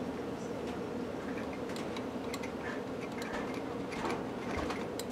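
A metal lathe in back gear cuts threads for a thread protector, giving a steady low mechanical rumble with scattered light ticks and scraping clicks throughout, close by and without talk.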